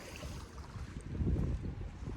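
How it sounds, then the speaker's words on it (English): Gusty coastal wind at Laboe near Kiel buffeting the microphone, a low blustery rumble that swells louder midway, with no voices. "It's getting a little windy right now."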